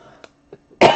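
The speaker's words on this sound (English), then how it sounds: "Actually coughed into my shoulder that time." A single short cough muffled into the shoulder, preceded by faint throat sounds, close and abrupt at the end of a quiet moment.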